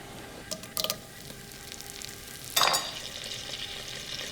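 Diced pancetta goes into melted butter in a pot and fries, a continuous soft sizzle broken by a few sharper bursts of spatter and stirring.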